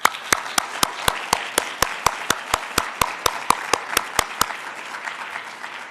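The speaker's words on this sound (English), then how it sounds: "Please give them a round of applause." Regular, evenly spaced claps ring out at a UN Headquarters World Wildlife Day celebration, a crisp steady rhythm that softens and thins toward the end, with no talking over it.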